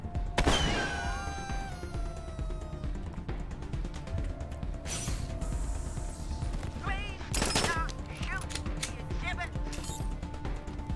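Gunfire in the video game Wasteland 3 cracks out in several separate loud bursts spread across the clip, each a short rattling volley over a steady low background bed.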